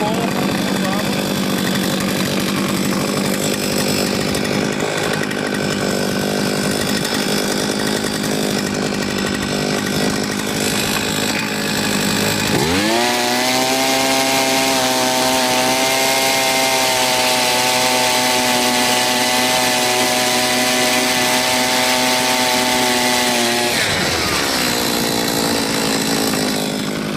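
An Eskimo Shark Z71 ice auger's small two-stroke engine runs loud and close, idling with a buzzing drone, then revving up to a steady high-pitched whine for several seconds before dropping back.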